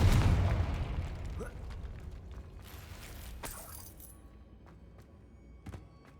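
Confringo fire spell cast in the Hogwarts Legacy video game, a loud opening burst that decays over a few seconds with scattered crackles and pops and a smaller pop near the end, with a voice speaking over it.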